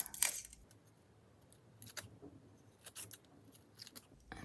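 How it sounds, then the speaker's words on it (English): Scissors snipping zigzags into paper for a golden paper crown craft, a few quiet, irregular cuts spread through a faint, otherwise still room. "And now I will just cut the zigzags."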